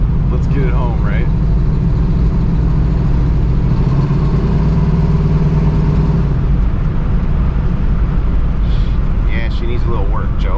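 1971 Pontiac Formula, a barn find, with its engine running steadily, a continuous low rumble heard from close by, while people talk over it at times.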